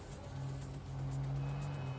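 Porsche sports car driving in the open-world video game Neverness To Everness, a steady engine drone with low tonal hum throughout, fairly loud and continuous, rising slightly in intensity as it goes.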